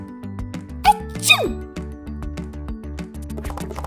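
A cartoonish sneeze, voiced by a person imitating it during toy play with a Peppa Pig figure, pops out once or twice over steady, looping background music.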